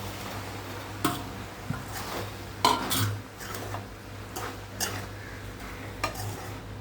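Small pieces of idli being stirred in a pan to coat them with masala, with a spoon knocking and clinking against the metal at irregular intervals over a soft scraping sizzle, and no talking.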